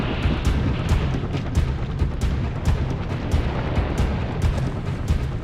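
Scattered gunshots crack sharply and repeatedly over a dense, rumbling wash of background noise during the Normandy landing, the shots coming at irregular intervals with no voices.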